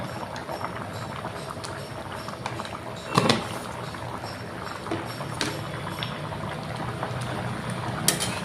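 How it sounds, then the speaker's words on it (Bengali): Hilsa and eggplant curry in mustard sauce simmers at a boil in a covered pot, giving a steady low bubbling hiss with a few soft clanks of the lid or utensils, no talking. "আর অল্প জাল হলে আমি তরকারিটা নামিয়ে নিব"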